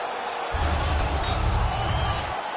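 Ice hockey arena crowd roaring and cheering after a fight on the ice, a dense, loud sustained wall of crowd noise that surges in and holds, heard close and alone.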